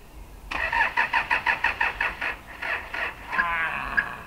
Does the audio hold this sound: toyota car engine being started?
yes